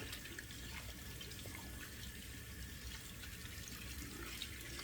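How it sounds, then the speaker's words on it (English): Hands being washed under a running tap after shaving, a steady close hiss of flowing water splashing into a sink with no talking. "I need to wash my hands off."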